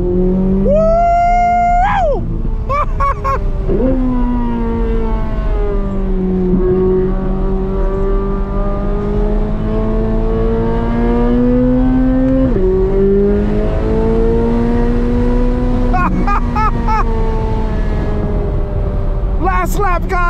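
A Chevrolet Corvette C8 Z06 lapping a race track roars loudly from onboard, its engine climbing and dropping through repeated gear changes, while a driver talks and whoops excitedly over it.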